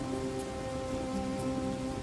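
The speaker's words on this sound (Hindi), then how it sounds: "बाहर अब भी मूसलाधार बारिश हो रही थी।" Heavy rain pours steadily in an animated story, a dense, even wash of sound without a break, with a faint low hum underneath.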